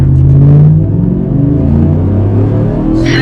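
Car with a 5.3 engine and six-speed launching hard, a loud close engine roar rising with rumble as the tires spin, then easing into a steadier pull.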